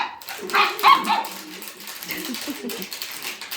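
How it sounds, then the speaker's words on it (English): Dog barking from beneath a bridge, several overlapping barks and yips in the first second, then continuing more faintly amid noisy outdoor background with some voice-like sounds mixed in. "there's a dog under the bridge."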